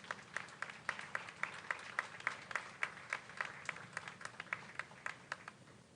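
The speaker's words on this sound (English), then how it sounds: "So give them a round of applause again." Sparse, quiet clapping from an audience at a junior fair king and queen coronation, with steady individual hand claps spread across the room and no voices over them.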